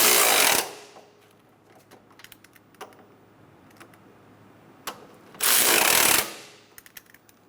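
Lug nuts on a 2003-2007 Honda Accord are snugged down by hand with a wrench, giving a few soft, scattered metallic clicks between two louder bursts of ratcheting, with quiet pauses in between.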